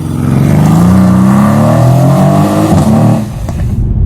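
A Mercedes C63 AMG pulls away and accelerates hard, its loud close engine note climbing steadily in pitch for about three seconds before easing off and fading.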